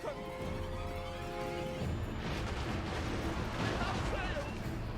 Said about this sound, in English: May as well the bolt throwers just fire at will again.